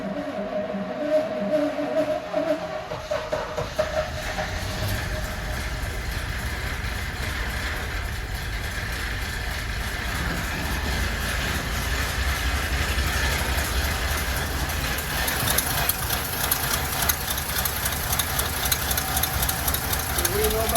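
Chevy C30 square-body dump truck engine with a primed carburetor cranks, fires up and settles into a rough, knocking idle, loud and close, with someone talking over it at times.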